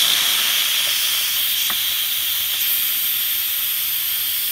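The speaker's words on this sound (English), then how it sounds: "All the steam is coming out of there." An Instant Pot on quick release vents steam in a loud, steady hiss that runs the whole time without a break, close by and with no voices.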